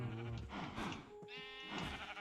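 Sheep bleat in Minecraft, two or three nasal, wavering baa calls close together, loud and clear with no talking.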